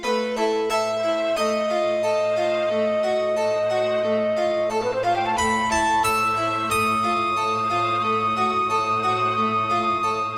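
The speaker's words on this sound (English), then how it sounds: "The next is this sinister 4-note melody that's repeated quite a fair bit" A sinister four-note sorceress motif from the Final Fantasy VIII soundtrack repeats over a sustained low drone. The piece is steady, loud and purely instrumental, with no voices.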